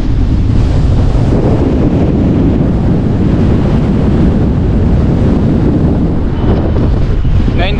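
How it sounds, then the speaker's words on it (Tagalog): Strong coastal wind buffets the microphone in a loud, steady roar, with surf and waves rumbling underneath throughout. "Sobrang lakas ng hangin dito."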